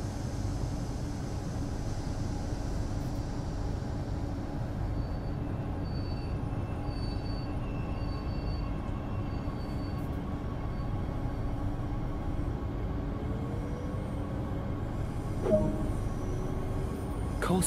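A BR442 Talent 2 electric regional train in Train Sim World 2 accelerates with a steady low rumble and a faint rising motor whine, plus a brief click near the end, with no voices.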